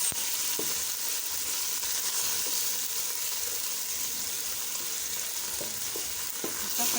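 Spices for chicken biryani sizzle and fry in hot oil, a dense, steady crackle close up with occasional stirring clinks and no talking.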